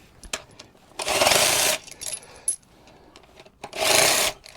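Imperial sockets for a TH180 automatic gearbox rebuild clatter as they are handled, giving two bursts of loud metallic rattling and jingling between sharper clinks and taps.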